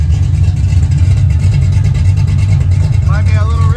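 A Z28 car engine runs with a loud, steady, rough low rumble close by, and a voice briefly speaks near the end.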